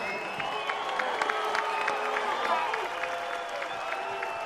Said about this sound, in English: I would like everyone to give Turki Al-Ashik a hand and a round of applause